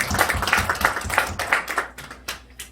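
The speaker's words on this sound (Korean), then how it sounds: "여러분 우리 박수 우리 환영하는 박수." Congregation clapping in welcome during a Sunday church service, a burst of close, crisp handclaps that thins out and fades toward the end.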